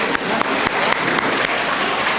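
An audience applauds after a children's dance drama at an annual day celebration, giving dense, steady clapping with a few sharper claps standing out.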